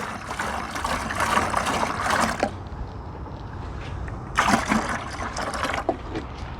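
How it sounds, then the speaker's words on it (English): Dry cement mix dumped into a bucket for a sidewalk repair, heard as a loud, close, sustained pouring rush in two long surges with a brief lull between them. "And then I'm going to dump all of this cement in."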